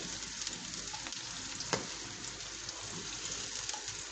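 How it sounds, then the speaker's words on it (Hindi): Sliced onions fry in hot oil for a dhaba-style aloo gobi, giving a steady, close, even crackling sizzle that runs throughout with no talk. "हल्का सुनहरी कलर आने तक हम इसको ऑयल के अंदर फ्राई करेंगे।"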